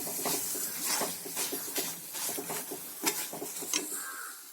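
A spoon stirs jaggery melting in a pan without water for roasted gram (pottukadalai) candy, giving repeated light scraping and clicking strokes over a soft sizzle at close range.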